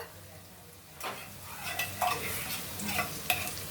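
Chopped onions frying in a pan for a home-cooked curry, starting with a sudden sizzle and then a steady crackle with scraping stirs and a few sharp clinks from a utensil against the pan.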